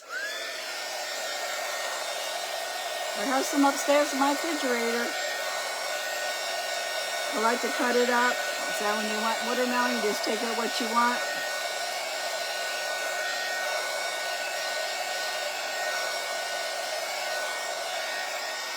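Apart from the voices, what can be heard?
dryer drying paint on a styrofoam watermelon slice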